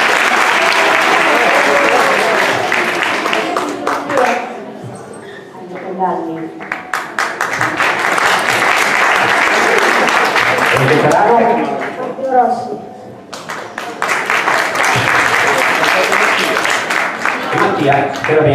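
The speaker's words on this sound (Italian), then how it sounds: "Fate un applauso, fate un applauso." A concert audience applauding loudly for band members being introduced, sustained dense clapping in long waves with brief dips where a voice speaks over the hall.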